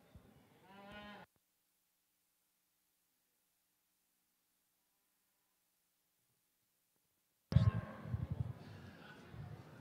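Shorthorn cattle at a beef expo show low close moos, one at the start and another louder one near the end after a long silent gap, with a busy show-ring background.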